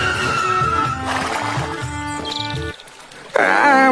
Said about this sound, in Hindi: घोड़ा अचानक दौड़ते हुए जंगल की ओर जाकर एक तालाब के किनारे रुक गया।